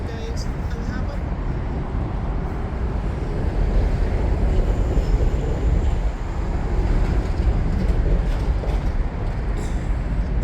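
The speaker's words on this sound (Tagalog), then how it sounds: "So tingnan po nyo, kalaki at ang haba po niyang cargo train na yan." A long cargo train rolls past on a foggy city morning, giving a steady, loud, continuous rumble and clatter that fills the whole stretch, with voices faintly in the background.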